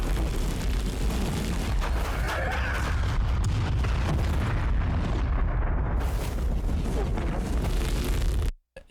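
Dense, continuous explosions and booming blasts from an anime fight in Dragon Ball Super, loud and sustained throughout with layered rumbling impacts and crackling bursts, cutting to silence at the very end.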